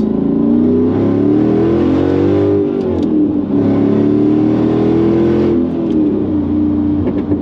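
A Mercedes C55 AMG with a six-speed manual gearbox accelerates hard, its V8 engine note rising, dipping briefly at a gear change, then climbing again, loud and close from inside the cabin.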